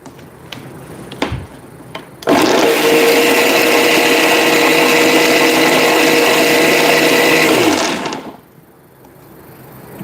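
A mixer grinder blends aboli chutney, kicking in abruptly after a few faint taps and whirring loudly and steadily for several seconds before winding down and stopping.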